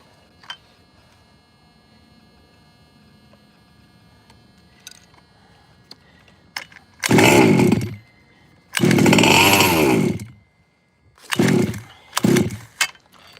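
A Team Losi RC nitro engine roars in several loud, raspy bursts of a few seconds each, separated by quiet pauses and small clicks, heard close.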